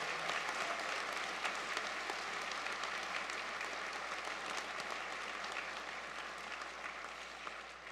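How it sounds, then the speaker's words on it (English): Steady, continuous applause fills a graduation convocation hall at SAIT as the audience claps for those who supported the graduates, broad and even throughout and fading slightly toward the end. "please join me in a round of applause for the folks that have helped you along your journey."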